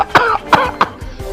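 A woman coughs three times in quick, sharp bursts at close range during a soap opera scene, followed by softer breathy sounds.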